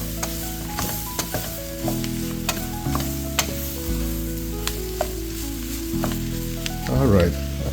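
A spoon stirs Cajun crawfish étouffée in a pot with a steady sizzle underneath, the scraping strokes repeating in a loose rhythm. The sound is close and moderately loud, and no one speaks.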